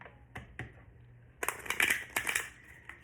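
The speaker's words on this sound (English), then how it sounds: "I tried shuffling the cards a different way, and the cards were not open to it" Tarot cards being shuffled in a home reading setting: a few soft isolated taps, then a denser, louder burst of riffling and slapping card sounds, close and alone without talk.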